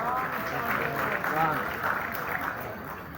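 Applause from an audience at the Arts Council in Karachi for Rashid Sabir after his drama, a dense wash of clapping at moderate level with some voices underneath.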